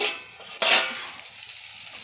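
Fish being fried and stirred in a pan: a low, steady sizzle with one sharp utensil scrape partway through, close and fairly loud, with no voices.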